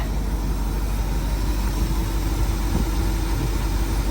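A retriever truck engine idles with a steady, low rumble, even and continuous throughout, with no voices over it.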